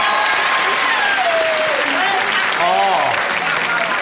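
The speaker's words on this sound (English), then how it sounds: "Give them a round of applause." Studio audience at a comedy roast of Davina McCall applauds former Big Brother housemates arriving for the finale: loud, sustained clapping for about four seconds, with cheers and whoops rising through it.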